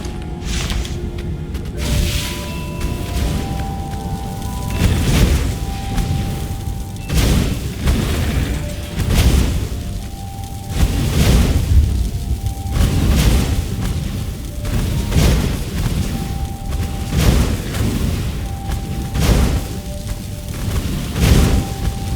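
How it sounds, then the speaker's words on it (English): A cannon trap in the video game Stories: The Path of Destinies fires repeatedly, with loud booms roughly every two to three seconds, each followed by a whooshing blast, over a rumbling game background. "Cannon trap. Who doesn't love being shot at by cannons?"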